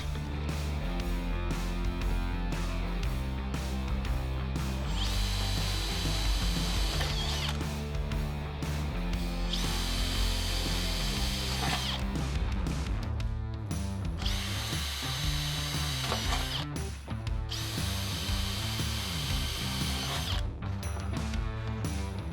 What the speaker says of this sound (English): Pre-drill holes to attach the U-profiles.